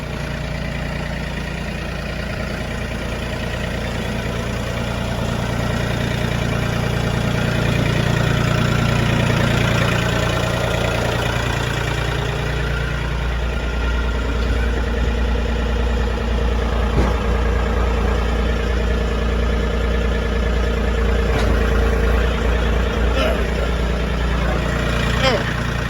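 A tractor engine idles steadily and close by in warm weather, a low continuous rumble that rises slightly partway through, with a person talking over it.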